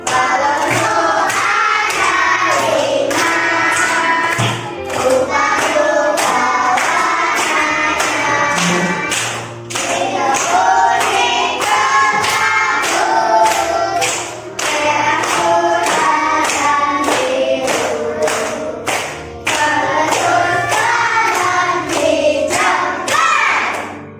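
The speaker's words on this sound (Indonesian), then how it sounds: "Sambil tepuk tangan ya." A group singing together while clapping along, with steady rhythmic hand claps on the beat beneath the voices, loud and sustained with brief pauses between phrases.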